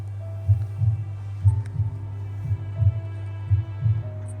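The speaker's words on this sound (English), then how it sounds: "In audio installation emits a slow heartbeat symbolizing the lives lost." Slow heartbeat played by a memorial audio installation at the Salaspils camp site in Latvia, a steady series of soft, deep double thumps over a constant low hum, alone without voices.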